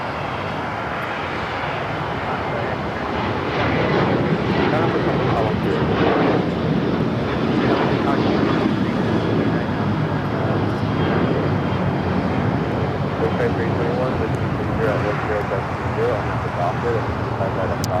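JetBlue airliner arriving from Buffalo, New York, at LAX airport, a loud, steady jet engine roar that holds throughout, with people talking over it.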